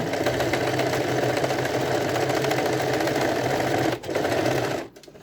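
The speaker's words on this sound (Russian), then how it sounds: "И на расстоянии 3 миллиметра от края делаю первую строчку." A sewing machine stitching a seam a few millimetres from a fabric edge, a loud, steady rapid mechanical whir with a brief dip near the end before it stops.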